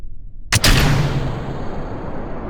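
Rocket engines ignite at launch in Kerbal Space Program, a sudden loud blast that settles into a steady, dense roar sustained to the end.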